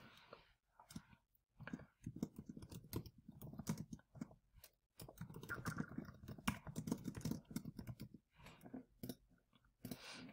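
Keys on a computer keyboard clatter in quick irregular bursts of typing, close and crisp, with short pauses between runs of clicks and no talking.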